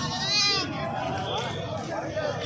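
Goats bleat at a crowded livestock market selling sacrificial goats ahead of Qurbani, with a drawn-out bleat standing out over a steady hubbub of nearby talk and chatter.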